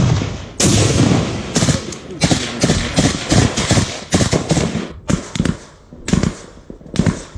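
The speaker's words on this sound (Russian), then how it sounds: "Це їх кулемет по нас." Gunfire from an enemy machine gun in a combat zone, loud bursts of sharp cracks crowding one after another with short gaps, close and harsh throughout.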